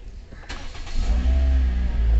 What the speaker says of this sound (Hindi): अभी स्टार्टर लग गया और गाड़ी स्टार्ट हो गई